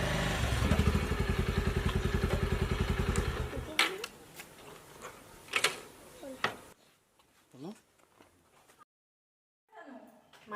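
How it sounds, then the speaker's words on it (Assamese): A motorcycle engine runs steadily close by, then cuts off abruptly. Scattered clatter and footsteps-like knocks follow in near quiet. "এখেতৰ বাইকতে আহিলোঁ"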